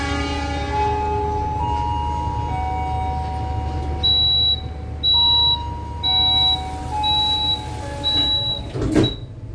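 An automatic door on the Argo Bromo Anggrek executive train shuts: a steady tone and a string of evenly spaced warning beeps, then a solid thud as the door closes, over a low hum.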